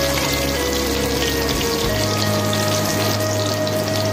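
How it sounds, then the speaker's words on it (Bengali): Potatoes with salt and turmeric sizzle in hot oil in a pan, a loud, steady frying hiss that stays constant from start to finish. "পরিমাণ মতন কিন্তু নুন হলুদ দিয়ে আলুগুলো ভেজে তুলে নিতে হবে।"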